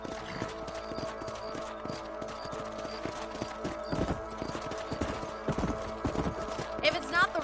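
Horse hooves clip-clopping at a steady gait while riding in the video game Red Dead Redemption, close and continuous, with an occasional snort near the end and some talking over the top.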